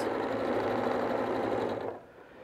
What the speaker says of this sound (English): I'm just going to re-sew this seam. Line up my edges here. Sew across,